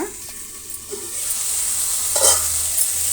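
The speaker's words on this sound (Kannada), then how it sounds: "ಮತ್ತೆ ಕಲಸೋಣ" Tomato chutney stirred in a pan on the stove, a soft spoon scrape over a steady low sizzle and hiss, close by, with no talking.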